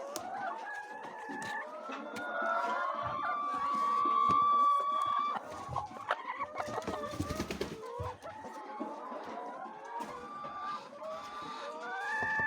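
Many laying hens in a chicken house cluck and squawk continuously at close range, overlapping calls of varied pitch with occasional rustling and clattering.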